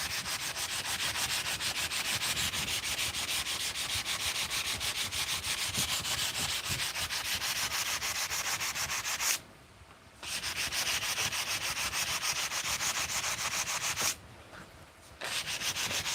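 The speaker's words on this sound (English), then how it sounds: "this piece is going to need more sanding" Steady, close abrasive rubbing of sandpaper on a wooden piece worked by hand, continuous for long stretches with two short pauses where the scratching stops.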